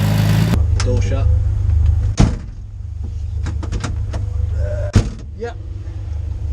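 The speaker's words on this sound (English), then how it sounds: "Door shut." The door of a 1960s Le Mans race car shuts with a sharp, loud clunk, followed by another thud a few seconds later over a low idling rumble, with talk nearby.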